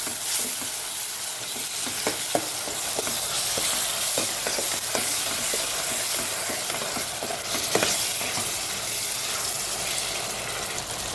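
Chopped tomatoes with salt frying in a pan, a steady loud sizzle broken by repeated scraping strokes of a spoon stirring, close and continuous with no talk.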